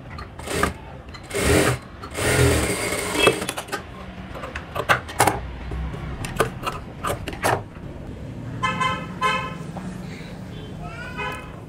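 A sewing machine stitching the folded edge of a high-neck blouse runs in short close bursts of whirring and rapid needle clatter, separated by pauses and small handling clicks, with a brief voice in between.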